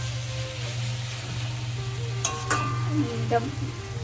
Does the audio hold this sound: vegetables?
yes